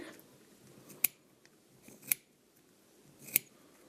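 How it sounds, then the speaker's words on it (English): Three sharp, crisp scissor snips cutting yarn on a pom pom maker, spaced about a second apart, close by, over a quiet background. "So I'm going to start cutting down the center."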